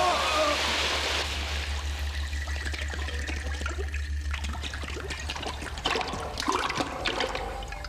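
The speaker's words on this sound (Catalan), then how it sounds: "Ara plou." Rain falling and water running, a continuous trickling, splashing wash with a steady low hum beneath and some shifting drips and clatter, while voices are heard.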